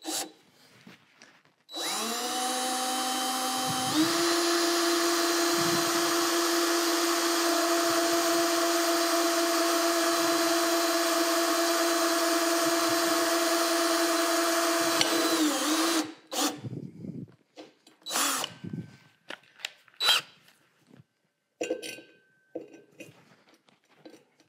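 A power drill bores bat pin holes into a pottery wheel head, running as one long loud sustained whine with a pitch change partway through, then stopping and giving way to clatter and handling noises.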